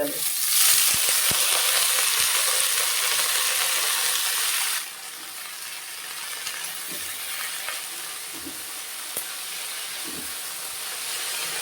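Greens hit a pan of browned onions, a loud broad hissing sizzle that drops abruptly about halfway and continues as a softer steady fry with occasional stirring scrapes, close and without speech.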